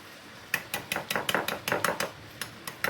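Salt and turmeric powder being mixed for chicken pickle, heard as about a dozen quick, fairly even clinks of a spoon against a small bowl, close and moderately loud with no talking.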